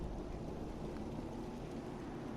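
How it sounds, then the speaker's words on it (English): Steady rainstorm in the video game Fallout 4 at a coastal settlement, a dense continuous hiss of falling rain with a low rumbling undertone, even and unbroken throughout. "I've been having a lot of rain in this game lately"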